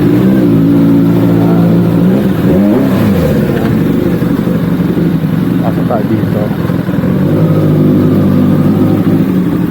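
An old big bike's engine rumbles and revs up and down, close and loud, while someone talks over it in Filipino.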